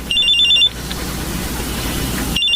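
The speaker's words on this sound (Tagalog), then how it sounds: "May tumatawag sa cellphone ko." A mobile phone rings as a radio drama sound effect, a bright electronic trill that sounds for about half a second, breaks off into background hiss, then starts again at the end.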